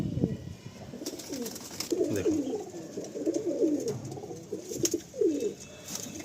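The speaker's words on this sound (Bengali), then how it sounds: "প্রকৃত পায়রা যে স্টার কালাঙ্কা বলে লোকে" Star Kalanka pigeons coo in a loft in a repeated, low rolling series of throaty calls, fairly close, with someone speaking briefly over them.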